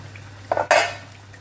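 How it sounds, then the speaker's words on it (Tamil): A metal lid lifted off a cooking pot of simmering paneer butter masala, two short close clinks of metal on metal. "மூடி வச்சிடலாம் பார்த்திங்கன்னா திறந்து பார்ப்போம்"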